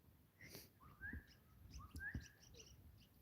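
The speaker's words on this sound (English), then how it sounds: "They're parrots you can hear now." Eastern rosellas, a parrot species, calling outdoors on a homestead walk: several bright, rising whistled notes and chirps repeat at a moderate distance over a soft, steady background.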